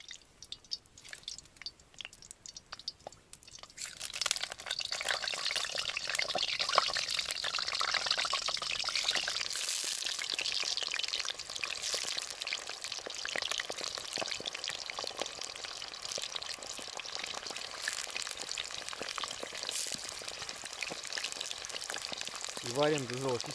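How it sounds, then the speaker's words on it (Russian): Potatoes hit hot oil in a cauldron over a campfire outdoors by a forest log cabin: a few seconds of quiet handling sounds, then a loud, continuous frying sizzle that holds steady to the end. "закидываю туда картофель, обжариваю до золотистой корочки"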